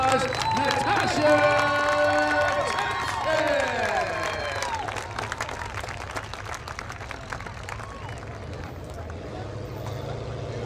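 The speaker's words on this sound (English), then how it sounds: "Give a big Dixie round of applause, Natasha!" Crowd applause and cheering rise at Dixie Motor Speedway under sweeping race-car engine tones that pass and fade, settling into a steady roar of crowd noise.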